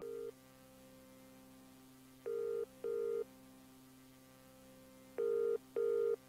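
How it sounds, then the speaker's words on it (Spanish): A mobile phone ringtone from The Mandela Catalogue plays as paired electronic tone bursts, separated by long gaps, over a steady low hum. "El video comienza con este sonido de un celular sonando."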